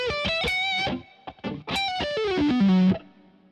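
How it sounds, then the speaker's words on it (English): An electric guitar through a Polychrome DSP Nunchuck with reverb pre-delay and delays, bright plucked notes up front and a sliding bend at the end, echoes trailing behind into a fading tail. "you can hear the guitar really up front and then the delays in the background"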